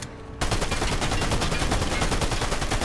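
Rapid automatic gunfire from a video game shooter, cutting in after a brief quieter moment and then hammering on continuously in loud, dense bursts with no talking.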